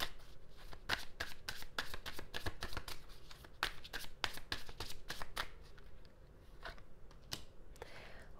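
Tarot cards shuffled by hand during a reading, a rapid series of crisp, close riffling snaps for about five seconds, then a few slower flicks.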